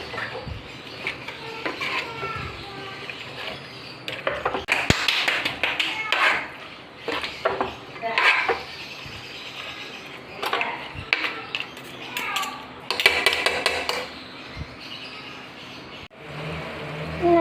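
Boiled chicken, cooked with salt and no water for a Kerala-style fry, stirred in a pan with frequent loud metal spoon scrapes and clanks against the vessel over a steady background hiss, plus scattered voice sounds.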